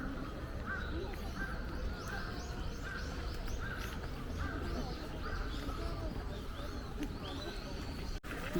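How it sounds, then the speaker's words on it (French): Crows caw repeatedly over a steady low city rumble in Tokyo, a series of harsh calls at moderate distance with a constant background hum throughout. "ils ont plein de corbeaux ici"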